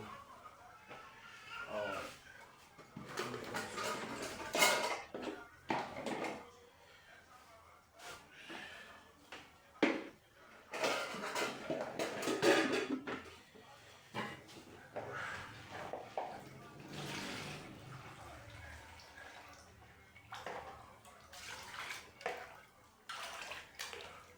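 White rice being washed by hand in a pot of water, with close, irregular sloshing and splashing in bursts and quieter pauses between them.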